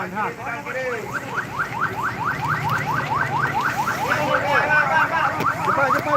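An ambulance siren wails on a road along an alternate route between Banda Aceh and Medan, sweeping up and down in a fast, steady yelp cycle that stays loud throughout over rumbling traffic and engine noise.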